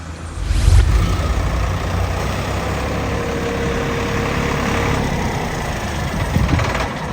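A tractor engine idles and runs steadily close by with a low, continuous diesel rumble, swelling briefly near the start and again toward the end, with no talk over it.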